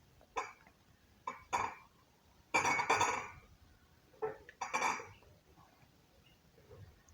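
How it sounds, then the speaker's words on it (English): Several separate coughs and throat-clearing bursts from a person indoors, some in quick pairs, spaced across the stretch with quiet pauses between them, close to the microphone. "So I told you guys I have cough."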